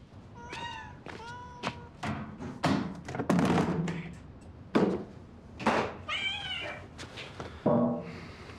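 A kitten meows repeatedly and plaintively in short, rising cries spaced about a second apart, close to the microphone, with soft thumps and handling noises between calls as it is readied for a bath.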